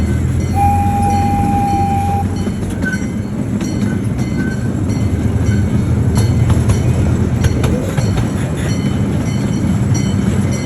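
A museum heritage train, locomotive 340, rolls along the rails on a Christmas ride at the National Museum of Transportation in St. Louis, Missouri, with a steady low rumble, rail clatter, a brief horn-like tone early on and faint wheel squeals.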